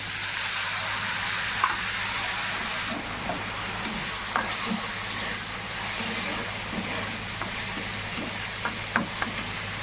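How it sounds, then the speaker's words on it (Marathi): Masoor dal lentils frying in hot oil, with a steady, close sizzle and occasional light clicks of a spoon stirring the pan. "आता हे सगळं भाजल्यावर हे डाळ द्यायची तेलात टाकून"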